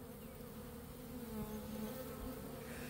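A large honey bee swarm of about ten pounds hums in a steady, dense buzz throughout, close and continuous with no talking.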